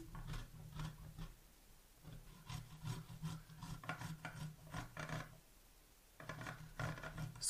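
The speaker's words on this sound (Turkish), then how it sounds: "Bu şekilde rendelemeye devam edeceğim." Celery root being grated quickly by hand on a kitchen grater, a steady run of rough rasping strokes close up with brief pauses between passes.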